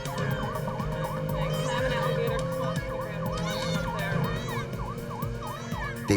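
An ambulance siren wails in steady, repeating rising-and-falling sweeps as it rushes an infant patient to hospital, loud and continuous over a low rumble of traffic.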